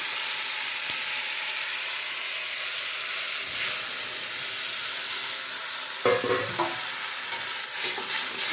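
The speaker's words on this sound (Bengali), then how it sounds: "কাঁচা লঙ্কা চেরা দিয়ে আমি আবার একটু নাড়াচাড়া করে নেবো" Slit green chilies stirred with ginger paste, turmeric and salt in a hot pan, a loud steady hissing sizzle with brief scraping bursts of stirring near the end.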